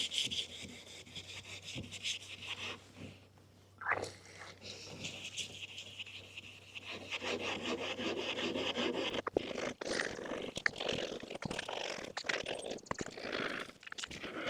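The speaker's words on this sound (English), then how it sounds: "So, wet sandpaper, wet sanding, you gotta have your water." Wet sanding a plastic car headlight: repeated gritty rubbing strokes, close and steady, with faint trickles of water and no talking.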